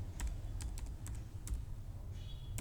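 A computer keyboard clicks during work in Excel: about a dozen quick, close keystrokes in uneven bursts over a low background hum, no speech.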